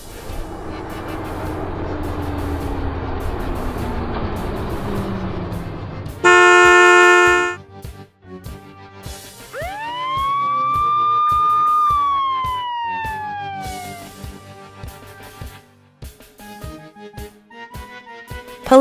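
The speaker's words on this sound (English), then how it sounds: "Police Jeep." A police jeep sounds a steady wailing siren, then a single sharp horn blast, then a rising and falling siren sweep, each loud and close against near silence, followed by a ticking rhythmic pulse.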